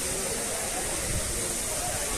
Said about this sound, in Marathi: आणि हा धबधबा बघा